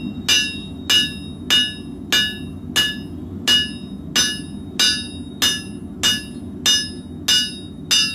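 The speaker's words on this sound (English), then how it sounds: "we hammer down onto our bevel" Sharp, ringing hammer blows forging the bevel of a Serbian chef's knife, about thirteen evenly spaced strikes in a steady rhythm, loud and close over a low background hum.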